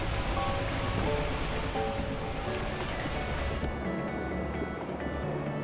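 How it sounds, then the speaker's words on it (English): Heavy torrential rain in the video game Beacon Pines roars continuously, a thick wash of drops that thins slightly near the end. "the heavens opened up, unleashing torrential rain"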